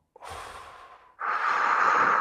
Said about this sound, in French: Une respiration. 1, 2, 3.